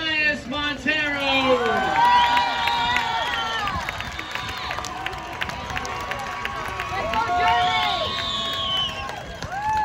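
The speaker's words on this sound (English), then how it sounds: "Please give another round of applause for your 2022 homecoming court." Crowd cheering, whooping and applauding for a 2022 high school homecoming court, sustained and lively throughout with shouts rising over the clapping at an outdoor event.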